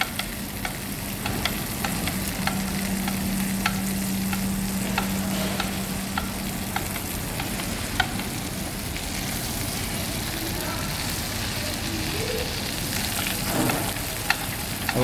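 White meat sautés in butter in a frying pan, a loud continuous sizzle with scraping and stirring as the pieces are tossed one by one, a faint hum in the background.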